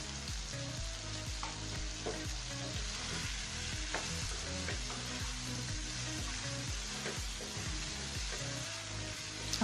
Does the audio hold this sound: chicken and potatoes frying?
yes